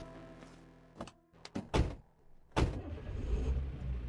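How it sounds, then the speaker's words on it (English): In The Song Out of Space, a deputy's car door opens and thunks shut with a few sharp clunks, followed by a low engine rumble as the vehicle sets off. "Headed to the deputy's car, who drove you back to your hotel in town."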